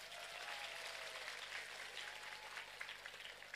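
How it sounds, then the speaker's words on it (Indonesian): An audience at a Javanese religious gathering with a wayang performance applauds in a steady, fairly faint patter of many hands, lasting a few seconds beneath a low background hum. "tepuk tangan dulu dong"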